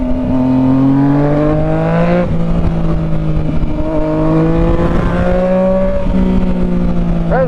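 A Mazda RX-7 rotary engine drones loudly at close range as the car drives, with its pitch shifting as it revs up and eases off.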